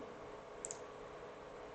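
Two quick, very faint mouse clicks, close together, on a software menu while inserting a worksheet in MS Excel, set against a quiet steady hiss.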